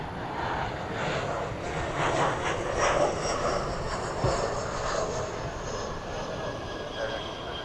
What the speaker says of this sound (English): American Flight 2485, Airbus A321.